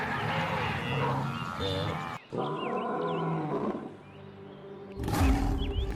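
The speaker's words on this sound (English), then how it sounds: "a resonant roar pierces the misty veil of dawn" A lion roars at dawn in Hwange, deep resonant calls rising and falling across several seconds, mixed with birdsong and faint wildlife ambience in the open savanna.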